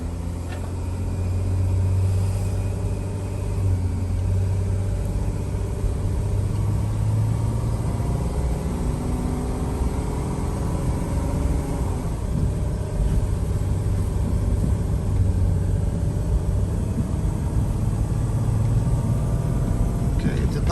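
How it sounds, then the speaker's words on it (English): A 2007 Dodge Sprinter engine is pushed to full throttle, giving a steady, loud low rumble with rising and shifting harmonic tones that runs for about twenty seconds without a break. "So watch what happens when I press the gas pedal all the way down."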